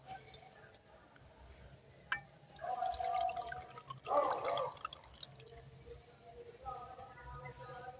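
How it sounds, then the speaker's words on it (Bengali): Half a cup of warm water is poured into a spoonful of sugar while making homemade yeast, a short splashing burst of liquid under faint background noise. "আর হাফ কাপ জল দেব।"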